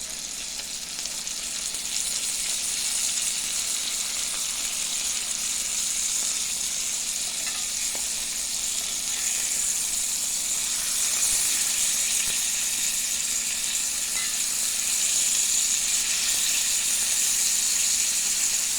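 Sausage browns in a pan on a stove set to medium heat before canning. A bright, steady sizzle and crackle runs unbroken throughout, close and even, with no talking.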